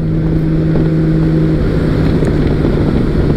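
Honda Valkyrie motorcycle cruising in fifth gear on a windy day, its engine a steady, even drone under a constant rush of wind buffeting the microphone, with no talking.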